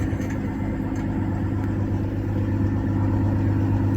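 A truck engine idles nearby with a steady low hum and a constant drone that stays even for the whole stretch, with no talk over it.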